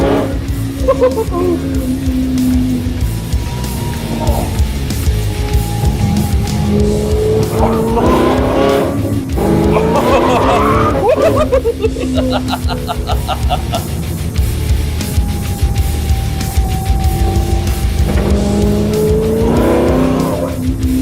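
A Capricorn 01 Zagato supercar driven hard, its engine loud and close from inside, with repeated tire squeals and rising and falling revs throughout.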